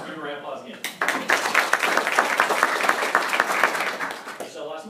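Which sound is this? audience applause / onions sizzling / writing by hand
audience applause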